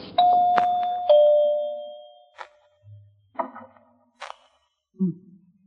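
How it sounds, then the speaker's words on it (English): A two-tone doorbell chime rings twice in quick succession in an old-time radio drama, followed by a few scattered knocks and faint shuffling noises. "Now, where's that doorbell?"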